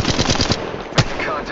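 A rapid burst of automatic gunfire rattles in Apex Legends Mobile, loud and close, followed by a single sharper shot.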